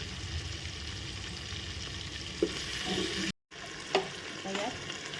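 Stuffed eggplants frying in masala with dried Bombay duck fish and potatoes in a pan, a soft, fairly faint, steady sizzle with a few light knocks of stirring and a brief gap of silence partway through.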